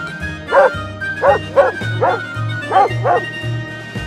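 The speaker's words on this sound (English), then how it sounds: "Dog." A dog in a farm-animal sound set gives about six short barks, close and clear, over steady background music.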